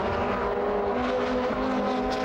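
Touring race cars in a 1997 Supertourisme race at the Dijon circuit roar past in a loud, continuous pack, engines droning at high revs with no break.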